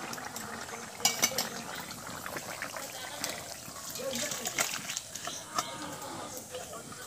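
Boiled, previously fried rui fish in liquid being poured from a pan into a vessel, with a continuous splashing trickle and occasional clinks of metal utensils, close up, with a voice speaking at times.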